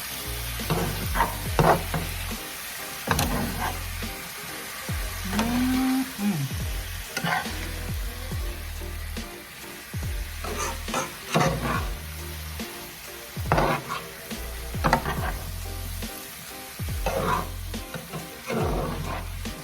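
Loaded potatoes fry in a skillet while a utensil stirs and scrapes through them, giving a continuous close sizzle with uneven clanks and scrapes throughout.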